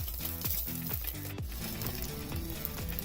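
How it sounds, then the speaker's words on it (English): Spam slices sizzle and crackle as they fry in a pan, a steady hiss running beneath loud rhythmic background music. "Look at that sizzle."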